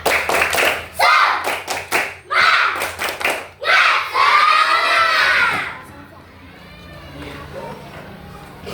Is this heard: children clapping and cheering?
yes